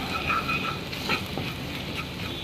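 Pasta sauce with dried coriander sizzles steadily in a pan as it is stirred, with soft scraping movements over a constant, fairly quiet frying hiss.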